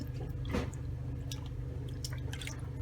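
Felt is dunked and worked in a bowl of dye-colored water to stiffen it for a quiet book, giving close wet squishes, sloshes and scattered drips over a low background hum.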